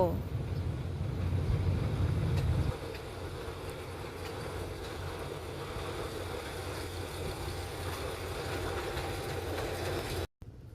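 Thai State Railway GE 4015 diesel locomotive hauling a passenger train bound for Chachoengsao, a loud low engine rumble that is heaviest for the first few seconds, then a steady rolling drone with wheel and rail noise.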